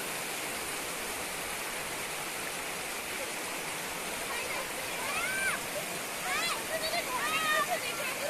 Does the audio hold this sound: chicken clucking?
no